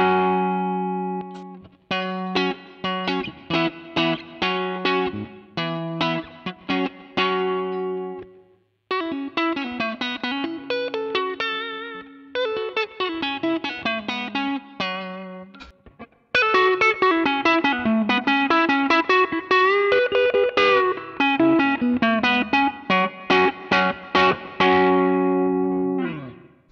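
A Telecaster electric guitar played through its neck pickup with the coil split gives bright, clean picked phrases: rhythmic chord strums and melodic runs in separate bursts with brief pauses, close and fairly loud.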